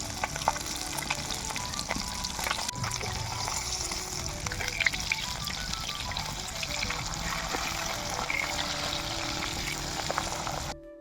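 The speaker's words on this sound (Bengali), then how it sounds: "মাছ ভাজার এই শব্দটা শোনো।" Pabda and sarputi fish frying in hot oil in a pan over a clay stove in a village kitchen, a dense continuous sizzle with crackling pops, close and steady throughout.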